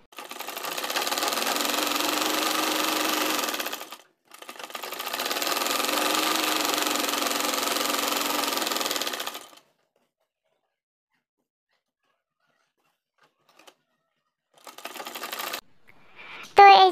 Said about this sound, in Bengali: তো এটাকেও আমি এভাবে বরাবর সেলাই দিয়ে নিচ্ছি।